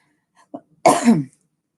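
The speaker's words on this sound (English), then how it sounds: "like I just coughed" A single sharp cough bursts out close to the microphone, preceded by a couple of faint short sounds, then falls quiet.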